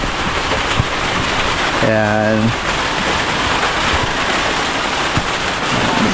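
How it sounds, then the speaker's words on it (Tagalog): Heavy rain pours in a loud, continuous hiss that fills the whole stretch, with a brief spoken word partway through. "malakas ang ulan natin dito"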